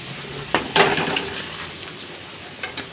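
Soft sizzling of potatoes frying in oil with a few clinks and scraping stirs of a utensil against a pan, close by, no voices.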